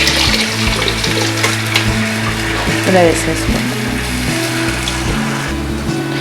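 Water simmers on a low flame in a cooking pan for semiya upma, with coriander added, giving a steady bubbling and light sizzling hiss throughout while a voice talks over it.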